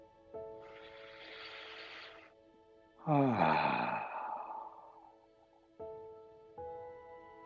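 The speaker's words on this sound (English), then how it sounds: "Nice deep inhale." A deep breath during a live online qigong session: a long, airy inhale, then a fuller, louder exhale over a steady background tone, near and alone.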